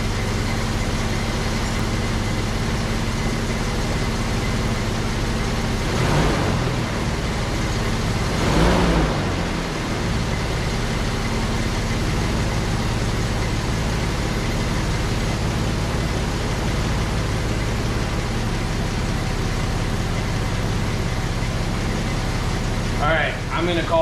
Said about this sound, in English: let's get it to 650 RPM. We're actually pretty close